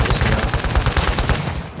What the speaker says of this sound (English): Where is he shooting from?